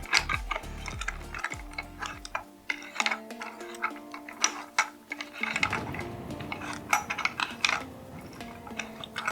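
A ratchet tool clicks in quick, uneven bursts while it tightens the socket of a thrifted lamp, with small mechanical rattles and handling noises between the clicks. The sound is close and fairly loud, and no voice is heard.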